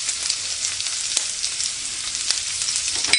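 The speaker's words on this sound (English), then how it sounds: "Cook about a few minutes, and now add spices." Spices hit a hot pan for Afghan mantu filling and sizzle steadily, a bright hissing fry with small pops and crackles heard close and alone.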